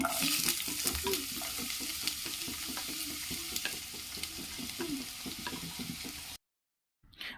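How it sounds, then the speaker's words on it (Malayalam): Sliced onions and green chilies fry in hot coconut oil in a kadai for beef mappas, with a steady close sizzle and repeated spatula scrapes and taps, then a brief drop to silence near the end. "കടായി എണ്ണ ചൂടായ ശേഷം നമുക്കതിലേക്ക് ഉള്ളിയും പച്ചമുളകൊക്കെ ഇട്ട് കൊടുക്കാം"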